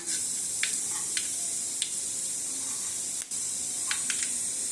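Mustard seeds splutter in hot oil in a pan during gravy preparation, a steady close hiss broken by sharp scattered pops every second or so.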